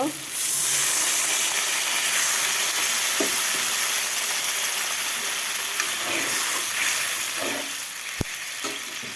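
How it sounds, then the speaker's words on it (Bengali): Water poured onto spices fried in a pan sets off a loud, steady sizzle and hiss with occasional stirring scrapes, and a sharp clink near the end. "মশলা কষিয়ে নিয়েছি এখন জল দিয়ে দিব"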